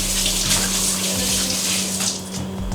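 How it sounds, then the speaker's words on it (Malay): Tap water runs steadily from a kitchen faucet while hands are washed before making fishballs, a loud continuous splashing gush with no pauses. "basuh tangan dulu sebab saya tak bisa sarung tangan."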